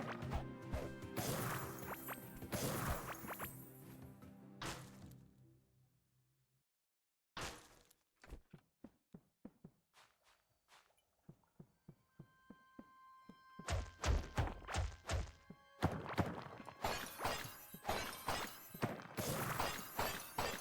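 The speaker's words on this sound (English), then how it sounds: "Quite satisfying to just go around smashing these." Objects being smashed in Core Keeper: dense clusters of crashing, shattering hits at the start and end, with scattered single thunks and whooshes and a brief quiet gap between them, heard up close with no talk.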